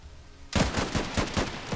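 After a brief quiet start, a sudden loud volley of rapid gunfire erupts in the WWI strategy game The Last Train Home. Sharp shots repeat at a fast, uneven rhythm until the end.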